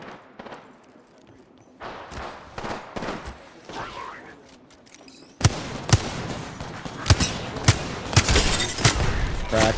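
Bursts of gunfire in a first-person shooter firefight, sporadic shots at first, then louder and denser volleys of fire with sharp cracks, heard under talk.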